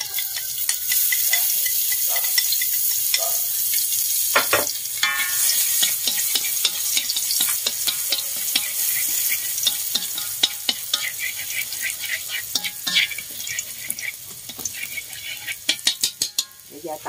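Minced shallots and garlic sizzling in a spoonful of oil in a pan, a loud steady close frying hiss with scattered stirring scrapes and clinks of a utensil against the pan, no voices.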